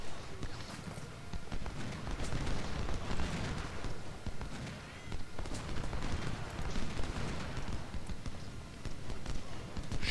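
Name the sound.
troops firing in Ultimate General: Civil War, video game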